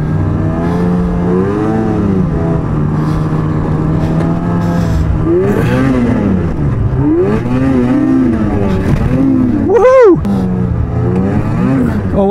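A snowmobile rides through snow drifts, its engine revving loud and close with rising and falling pitch sweeps and a sharp peak near the end.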